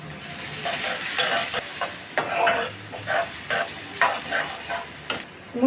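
Chopped onion and garlic frying in oil in a pan for a masoor dal charchari, a close sizzling crackle with bursts of stirring and scraping in an uneven rhythm, no voices.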